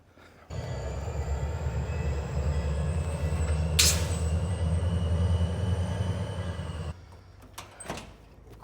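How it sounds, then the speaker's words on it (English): A train shunting cars back and forth behind a commercial bay: a steady, loud low rumble for several seconds, a sharp hissing screech of air brakes midway, then the rumble cuts out. "Of course, we've got a train in the back,"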